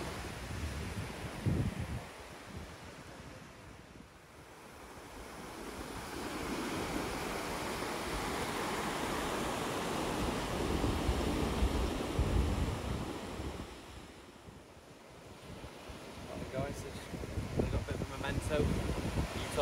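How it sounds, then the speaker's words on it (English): Surf at Utah Beach in Normandy forms a steady broadband wash of breaking waves, swelling and easing over the seconds with wind buffeting the microphone throughout. "There we are, guys. Utah Beach."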